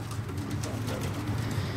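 Racing pigeons at a Perama pigeon club coo in low, rounded murmurs, a steady close flock sound filling the short stretch without talk.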